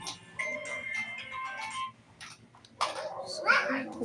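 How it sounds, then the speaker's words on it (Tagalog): A cellphone plays a melodic ringtone for about two seconds, fairly close, while a child babbles and others talk over and after it. "Yan ang cellphone niya eh."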